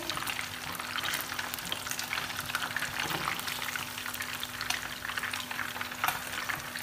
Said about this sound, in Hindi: इसी तरह से करते हुए हम तमाम मछली की गनियाँ फ्राई कर लेंगे।